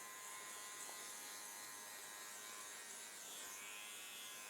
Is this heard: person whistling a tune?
no